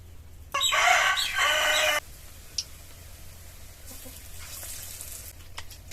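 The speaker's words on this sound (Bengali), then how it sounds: "সেই জন্য একটু সময় নিয়ে চপটা ভেজে নেব" Potato chops made with sour green mango deep-fry in oil. A loud, bright sizzle bursts for about a second and a half, then drops to quieter bubbling with a sharp click and a fainter sizzle later.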